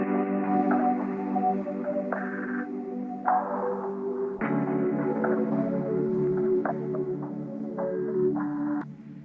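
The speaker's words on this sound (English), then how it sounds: "I just exported out that lead, I reversed it, and then I chopped it every 2 bars" A reversed synth lead sample chopped into two-bar sections in FL Studio, swelling tones that rise and cut off abruptly, with a steady hazy texture throughout.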